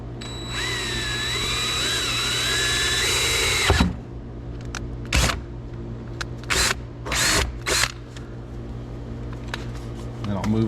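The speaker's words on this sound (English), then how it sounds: "Now I'll drill with the smaller bit first." Power drill with a small bit boring into a Jeep Cherokee XJ's floor near a drain plug while preparing for a bolt-in roll cage: a sustained whining drill run, then several short bursts, with faint talk in between.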